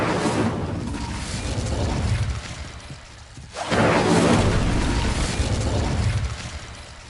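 Incendio fire spell cast in Hogwarts Legacy, a roaring whooshing burst of flame that fades, then a second louder fiery surge after a brief dip.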